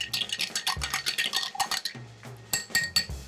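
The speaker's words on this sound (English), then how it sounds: "And we're gonna stir till chilled." Cocktail stirring for a lavender old-fashioned with ice, repeated clinking and rattling of cubes against glass and spoon in a steady rhythm, close and fairly loud, with no talking.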